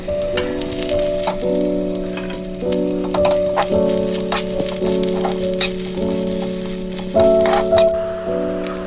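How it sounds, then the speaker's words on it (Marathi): Grated coconut crackles and rustles as it roasts in a hot pan, with scattered pops over a steady low hum throughout. "हा आता खोबरा खोबरा पण बरा भाजून घेऊचा"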